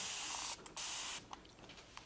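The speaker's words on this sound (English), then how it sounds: "if you get a spray bottle like this when you're making washes" A handheld spray bottle misting water during watercolor-style paint wash preparation, two short hissing bursts close up, the second slightly longer, followed by faint handling clicks.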